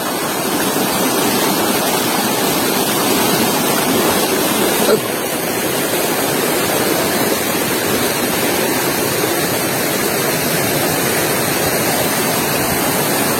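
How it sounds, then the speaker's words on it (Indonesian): A fast, clear river rushes through a rural village, giving a loud, steady, close roar of churning water that runs without a break from start to end. "Tuh alirannya cukup sangat deras sahabat."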